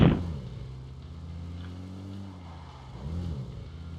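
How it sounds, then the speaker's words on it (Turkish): A car engine in the video game PUBG Mobile hums steadily, its pitch dipping and then climbing again as the vehicle drives along, with no voices. "Hemen arabamızı alıp Zeynep'in yanına gidelim."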